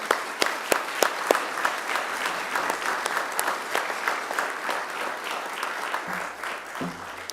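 Graduation ceremony audience applauding academic staff, opening with a few sharp individual claps that swell into steady sustained applause filling a large hall, tapering slightly toward the end.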